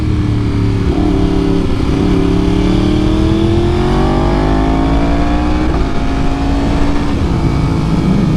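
A Yamaha R1 sport motorcycle's engine roars loud and close throughout, its pitch rising and falling through gear changes as the bike rides along and past at speed.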